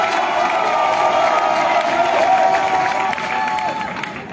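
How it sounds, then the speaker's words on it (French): A large crowd of young people at a night political rally in Yopougon cheers and claps, a loud, dense roar of whoops and applause that eases slightly toward the end. "Les jeunes, applaudissez-vous."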